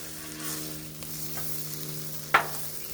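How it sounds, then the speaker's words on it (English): Shrimp cooking for paella on a Blackstone flat-top griddle makes a faint, even sizzle under a low background hum, broken by one sharp clink near the end. "Make sure the shrimp's on the griddle. In contact with the surface."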